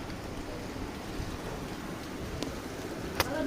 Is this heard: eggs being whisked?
no